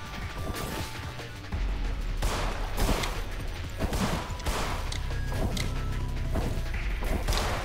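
Enemy gunfire in the game In Sound Mind, a run of loud, irregular thudding shots and impacts over a low rumbling backdrop, close and repeated for several seconds.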